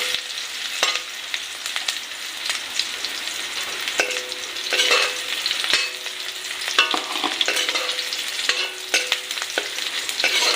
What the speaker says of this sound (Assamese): পিঁয়াজখিনি অলপ ভাজা আনক